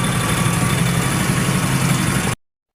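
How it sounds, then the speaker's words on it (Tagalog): A hard-starting vehicle engine, kept running on a full tank at a resort fencing worksite, idles loudly and close with a steady low rumble and vibration, then cuts off abruptly. "hindi ko pwedeng patayin yung makina nito"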